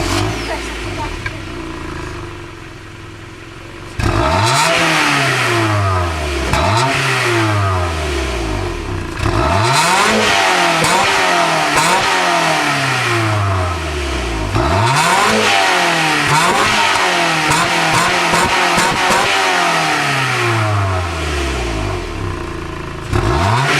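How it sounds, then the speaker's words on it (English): Stock-exhaust 1998 Honda Prelude engine starts and idles, then revs repeatedly in loud rising and falling sweeps, close by and without talk. "Alright guys, let's do a quick little start and a little rev. Just so you hear it before"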